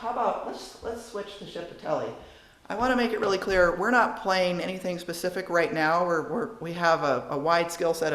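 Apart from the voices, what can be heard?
No distinct noise like a dog, phone or traffic.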